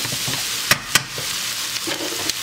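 Garlic sizzling in a pan while making beef stroganoff with sirloin and mushrooms, a steady close hiss broken by two sharp clacks and a few scrapes as it is stirred and tossed, with no talking.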